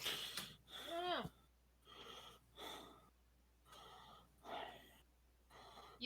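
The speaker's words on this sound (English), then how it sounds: "You're breathing very heavily." Heavy, close breathing into a microphone during a tabletop role-playing session, with loud gasping inhales and snorting exhales in an uneven rhythm, separated by short quiet gaps.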